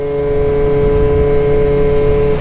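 A modified scooter engine is held at wide open throttle, a loud, steady high-pitched drone with a sustained tone and no break, close to the microphone and with no talk over it.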